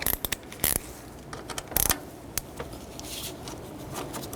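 A 10mm socket turns a spark plug coil mounting bolt on a 2006-2012 Toyota RAV4, giving several close, sharp metallic clicks and ratchet scrapes in irregular bursts, then a steadier faint background rasp.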